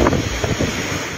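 Strong typhoon wind roaring across Calayan, Cagayan, a loud, steady, broadband rush buffeting the microphone without letup.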